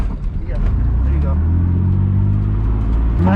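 A manual car revs hard under heavy throttle while learning to drift, a loud, steady engine drone with rising tonal harmonics and a brief rev bump near the end, close and continuous.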